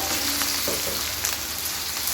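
Garlic frying with a spice paste and onion in a pan, a loud continuous close sizzle with faint crackles throughout, no voices.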